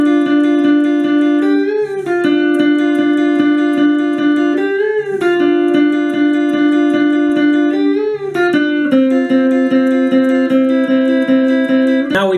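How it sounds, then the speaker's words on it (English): A lead guitar plays the closing riff from a song, a repeating melodic figure of sustained, bent notes cycling every couple of seconds, loud and close with no talking. "towards the end of the song we've got our last new riff on our lead guitar"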